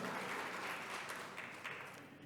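Church congregation at an Easter service applauding young people, a steady wash of many hands clapping that fades slightly toward the end, with no voices over it.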